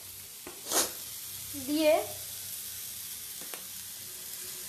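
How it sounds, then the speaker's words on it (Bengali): Chicken dal frying on a full flame while being stirred: a low steady sizzle with a couple of brief scraping stir strokes, and a voice speaks a word over it. "এটাকে ফুল আঁচে এটা নাড়তে হবে ভালো করে"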